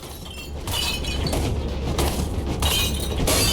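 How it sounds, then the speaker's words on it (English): Glass shatters repeatedly in Viscera Cleanup Detail, a loud crashing burst followed by further bright, crackling breaks and tinkling shards spread over several seconds, close and without speech. "It is fun making the shattering noise."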